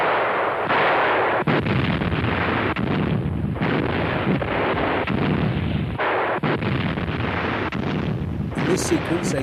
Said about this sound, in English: 88mm flak 36 provide air cover to German ground forces in western Russia in 1944